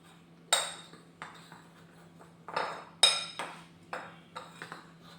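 A utensil taps and scrapes against a bowl while dry brownie ingredients, including flour and a pinch of salt, are mixed. Sharp clinks come irregularly, with quiet gaps between them, over a faint steady hum.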